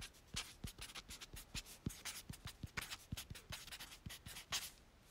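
A pen writes on paper in quick, faint scratching strokes with short rhythmic taps, quiet and close, with no talking.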